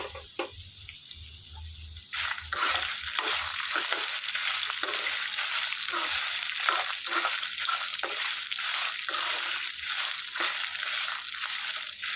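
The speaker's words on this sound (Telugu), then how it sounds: "ఇందులోనికి ఎండుమిర్చి కూడా వేసేసుకొని వేయించేసుకోవాలి" Ginger chutney fries with dried red chillies in a pan, giving a continuous loud sizzle broken by rhythmic stirring scrapes of a spoon against the pan.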